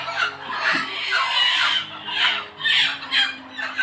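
A flock of chickens on a poultry farm in Mariyamkhar village squawk and squeal in bursts after being fed, a loud, busy chorus with no talking.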